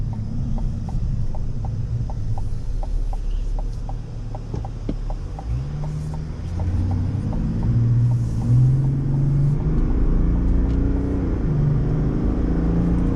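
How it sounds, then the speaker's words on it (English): A 2024 Chevy Silverado ZR2 diesel truck accelerates with a low, rumbling engine note that climbs through gear shifts. A faint regular ticking runs underneath, and no one speaks. "we'll go ahead and take it right out of here and we'll give it some gas"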